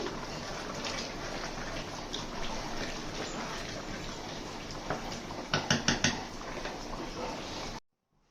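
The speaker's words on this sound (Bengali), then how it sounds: "চুলায় মাংসটা বসিয়ে দিয়েছি মাংসটাকে আমি একটু নেড়ে দিচ্ছি" Beef being stirred in a pot for Eid-style bhuna, giving a steady low sizzle with scraping and a quick cluster of spoon-on-pot knocks near the end before it cuts to silence.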